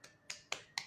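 Four crisp, isolated hand claps, evenly spaced about a quarter second apart, close and dry against a quiet room.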